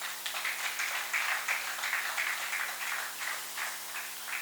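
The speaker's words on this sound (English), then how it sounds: "Please clap for." An audience applauds at the OGTAN National Awards 2023 ceremony. Dense, continuous clapping holds steady for several seconds over a low electrical hum, with no voices heard.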